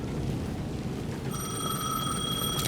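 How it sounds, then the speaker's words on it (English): A payphone rings in the video game Alan Wake 2, steady high bell tones entering about halfway through over a dense rumbling rain-and-thunder ambience, fairly faint and continuing to the end. "The payphone was ringing again."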